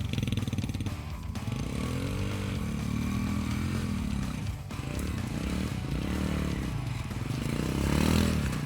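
Gas-powered moped mini bike with rear-wheel drive and manual gearbox ridden over forest obstacles, its small engine droning steadily close by with uneven revving and scraping clatter throughout.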